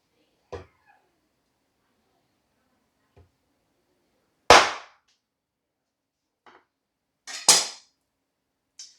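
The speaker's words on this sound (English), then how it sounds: "let's see what happens when we take a whack at this coconut" A Dalstrong Devastator knife whacks a coconut: a few sharp, hard cracks, two of them loud and close, with fainter taps in between and near silence elsewhere.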